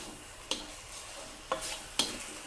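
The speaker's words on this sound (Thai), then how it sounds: "ผัดให้ทั่วนะคะ ให้เส้นแห้งค่ะ" Rice noodles with dried shrimp being stir-fried in a pan for market-style pad thai: a soft steady sizzle broken by three sharp spatula scrapes and tosses, close up, with no talking.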